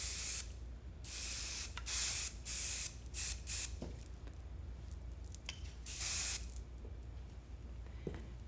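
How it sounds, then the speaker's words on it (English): RePlay hairspray misted onto styled hair in a series of short, close hissing bursts of varying length, with quiet gaps between them and no talk. "just do a little bit of the RePlay hairspray just to kind of hold it in place"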